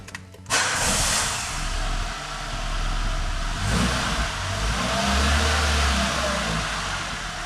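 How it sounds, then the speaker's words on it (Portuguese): A car's engine starts and revs during a technical vehicle inspection, with a steady mid-pitched drone that swells under acceleration and stays close and loud for several seconds, no talking. "para fazer o carro funcionar, para ligar, para ouvir o motor"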